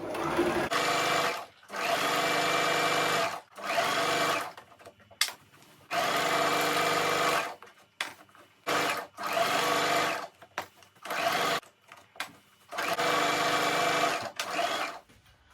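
A sewing machine stitches satin fabric for a pleated rose turban, running in loud whirring bursts of a second or two separated by short pauses, with a few quick stop-start runs near the end.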